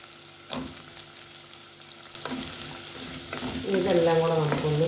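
Drumstick pieces and shallots being sautéed in a pan for a theeyal, with sizzling and frying that grows louder toward the end, punctuated by a few stirring scrapes.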